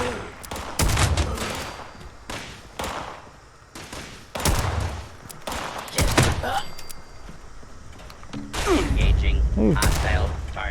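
Gunfire in Fallout 76 comes in sharp bursts and single shots spread across the clip, loud and close with reverberant tails, and someone speaks between them.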